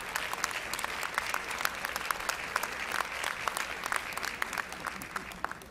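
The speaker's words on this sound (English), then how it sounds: "Give him a round of applause." A convocation audience applauds with dense, steady clapping throughout, fairly close and unbroken.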